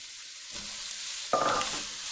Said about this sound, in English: we're gonna saute the onions as soon as the oil heats up